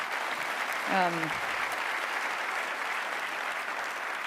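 A conference audience at a global prosperity discussion applauds steadily for over four seconds, a dense even clapping with a brief voice cutting through near the start.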